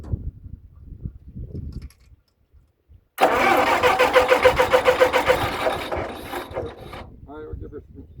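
A small gas engine, just repaired, cranked after a quiet pause with rapid rhythmic mechanical chugging and ratcheting, loud and close, fading out after a few seconds.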